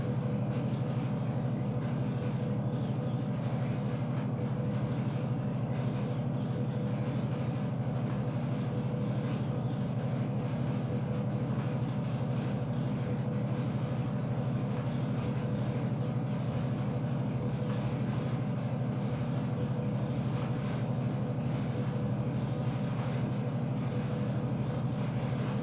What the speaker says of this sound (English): Little S2, Alco S2 is really struggling mightily with this train